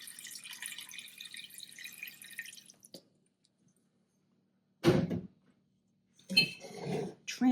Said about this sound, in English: we're gonna add in just a little more liquid.